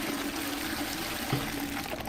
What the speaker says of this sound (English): You can actually flush the toilet in here.